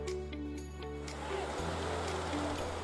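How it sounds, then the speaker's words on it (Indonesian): Waves toss motorboats and jukung canoes at sea in bad weather, heard as a continuous churning surf roar beneath steady low engine hum and tonal drones, recorded as amateur footage. "detik-detik perahu terombang-ambing ombak sempat terekam kamera amatir warga"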